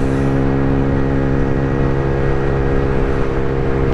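A loud Aprilia motorcycle engine drones steadily and close up, its rich, even harmonic roar holding without a break and with no voices over it.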